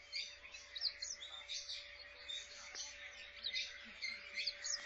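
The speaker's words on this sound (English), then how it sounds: "Look at this finch" Finches in a pet store chirp and twitter in quick, overlapping high calls, faint and continuous over a low steady hum.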